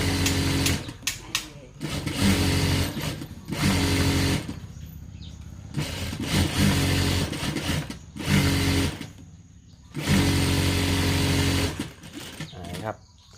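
Sewing machine stitching a fabric glove in bursts, several loud, close runs of buzzing motorized stitching separated by short pauses.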